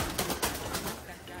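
Pigeons coo in a few short soft pulses close by, with faint rustling, as someone tries to catch an escaped pigeon.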